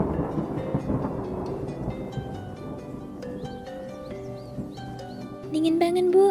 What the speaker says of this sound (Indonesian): Tiba-tiba petir menggelegar.